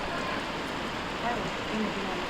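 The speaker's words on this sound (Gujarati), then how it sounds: "અત્યારે વરસાદ આવી ગયો છે જો રાજુલામાં" Steady, close hiss of rain falling without a break in Rajula, Gujarat, with muffled voices faintly in the background.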